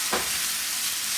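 Lean ground turkey fries in hot coconut oil in a pan, a loud even hiss of sizzling with one brief scrape near the start, close and uninterrupted by speech.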